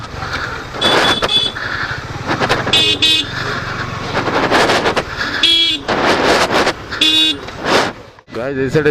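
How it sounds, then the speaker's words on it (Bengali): A Yamaha MT 15 motorcycle edging through a jammed road, engine rumbling close beneath repeated horn honks from surrounding traffic, some short and some held, with someone talking over much of it. "ফুটপাথ দিয়ে বাইক চালাতে হচ্ছে হ্যাঁ জ্যামের জন্য"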